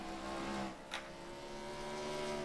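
Race car engine roaring steadily in the iRacing ARCA General Tire 150 at the Roval, with a brief tire squeal mid-clip as a car nearly spins out in the background.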